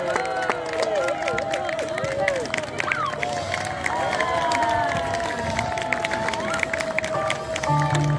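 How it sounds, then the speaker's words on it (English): An outdoor audience at a circus skills show during the Eastleigh Mela claps and cheers after a juggling trick. The applause is steady and moderately loud, mixed with crowd noise and a performer speaking. "clap and cheer one last time."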